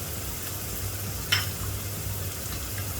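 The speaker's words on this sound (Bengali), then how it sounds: "এখন মশলাটা আমি সুন্দর করে কষিয়ে নিচ্ছি" Masala with cumin, sugar and mustard paste stir-fried in a pan for a pumpkin ghonto, a low steady sizzle with one brief scrape of the spoon partway through.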